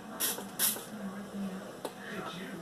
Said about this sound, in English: But I have some in a spray bottle. And I'm going to turn it down to where it's just like a mist.